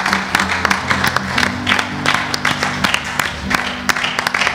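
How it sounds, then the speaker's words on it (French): A church congregation at a Sunday morning service applauds and cheers loudly, with sharp individual claps over a broad crowd roar and a sustained low musical tone beneath. "Si nous le croyons, acclamons très fort les Seigneurs."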